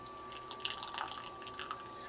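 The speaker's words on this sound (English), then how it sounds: "squish it, let all the water come out." Water drips and trickles from a squeezed hibiscus tea bag, a faint run of small close splashes with irregular spacing.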